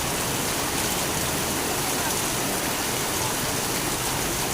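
Steady hiss of heavy rain pouring down, a dense continuous wash of water noise with no breaks.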